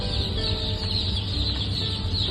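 A crowd of newly hatched Vigova super hybrid duck chicks, a dense, continuous chorus of high peeping and chirping from many birds close by, with no talking.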